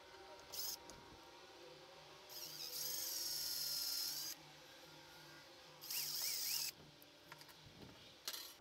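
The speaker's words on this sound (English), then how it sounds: "Then take my drill with a micro drill bit" A small high-pitched micro drill whines in bursts drilling holes in jewelry work, spinning up and down several times over a low background hum, with a few light clicks between runs.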